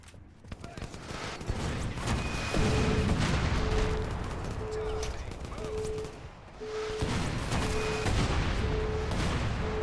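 Regular grenade explosions in Crackdown on Xbox 360, heavy booming blasts mixed with ongoing gunfire, loud and dense across the clip with a repeating beeping tone in the middle stretch.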